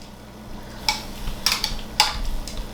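Chicken filling for a tortilla lasagna stirred in a pan, with three or four sharp spoon clacks against the metal over a quiet background.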